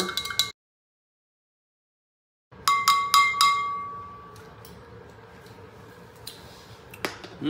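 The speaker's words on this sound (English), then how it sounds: "So let's give that a good stir." A spoon stirs orange-flavoured Cellucor C4 pre-workout powder into water in a glass. After a silent pause come a quick run of bright clinks, then softer swirling and a few light taps.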